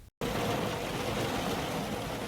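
Steady rain drums on the roof of a parked camper van on the Peloponnese in Greece, a dense continuous hiss that follows a brief silent gap at the very start.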